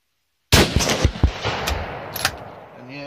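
A single sharp rifle shot from a 22-250 firing a 70 gr Speer bullet, a loud crack with rolling echo and a few short follow-up reports fading over about two and a half seconds.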